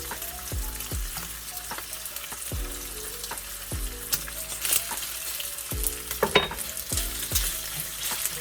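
Beef sizzles steadily in butter in a pan, a constant close frying hiss broken by regular soft knocks and scrapes of stirring.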